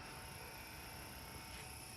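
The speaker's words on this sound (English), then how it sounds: "the helicopter's just flying a figure 8" A Fly Wing RC Huey UH-1 scale model helicopter flying a figure-eight in a yard, giving a faint, steady whirring buzz with a high motor whine and no talk.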